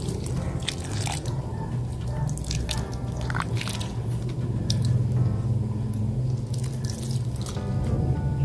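Water poured onto a potted pineapple plant, heard as patters and trickling drips over a steady low background hum, moderately close.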